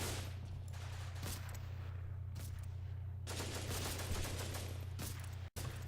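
Bursts of machine gun fire crackle in the World War II strategy game Combat Mission: Battle for Normandy, rapid repeated shots in clusters over a constant low hum, moderately loud with a brief dropout near the end.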